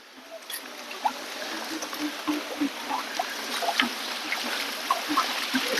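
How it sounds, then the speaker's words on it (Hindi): Clean stream water rushes steadily from a waterfall on the Girnar Lili Parikrama route near Junagadh, making a continuous close wash of flowing, splashing water with small bubbling bursts throughout. "इधर से झरना बहता हुआ"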